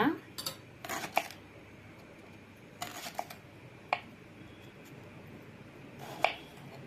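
A knife cuts raw plantain into rounds on a board, giving several sharp, brief clicks and taps spaced irregularly, close and fairly quiet, with stretches of near silence between strokes.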